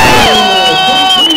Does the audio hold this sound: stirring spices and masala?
no